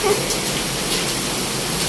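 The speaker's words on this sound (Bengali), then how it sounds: "বরফ পড়ছে তো শব্দ হচ্ছে" Hailstones fall steadily during a hailstorm, giving a continuous dense hiss of pattering ice with no distinct individual hits and no break throughout.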